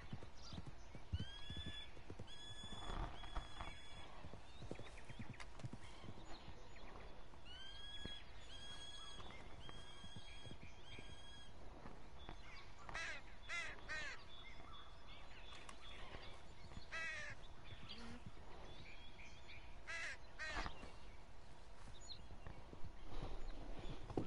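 Video game horse hooves clip-clop in a steady rhythm while whinnies and neighs break in repeatedly, fairly quiet, with no talking.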